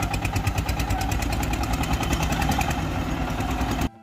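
A tractor engine runs at a steady idle, a close, loud, chugging mechanical rumble with a fast regular pulse that continues unchanged before cutting off abruptly at the end.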